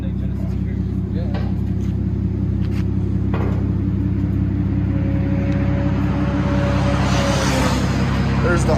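A 2016 Hyundai Genesis Coupe 3.8 engine idles with a steady, low, even rumble close by, while people talk over it and something clunks faintly in the background.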